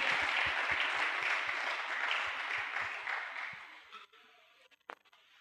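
A church congregation at a Sunday thanksgiving service claps steadily for about four seconds, the dense applause fading out, followed by a few scattered claps and knocks in a quiet room.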